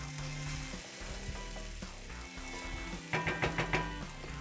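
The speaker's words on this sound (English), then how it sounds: "Now that cast iron is getting hot." Spinach sizzles steadily in a hot cast iron pan, a close, continuous frying hiss with clattering stir strokes near the end.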